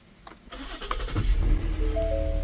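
A 2017 Ford Explorer Sport engine cranks and catches, then settles into a steady idle with a rising whine, loud and close.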